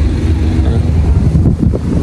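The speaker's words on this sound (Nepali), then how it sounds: "एकदम धेरै हावा चल्दो रहेछ" Strong wind buffets the microphone on a hilltop overlooking the valley near Bhaktapur, Nepal, producing a loud, continuous low rumble that gusts unevenly throughout, with no voices heard.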